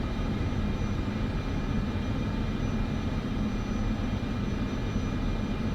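Cessna turboprop engine in Microsoft Flight Simulator 2024 after landing on a short runway, a steady loud broadband roar and hum that stays constant throughout with no voices.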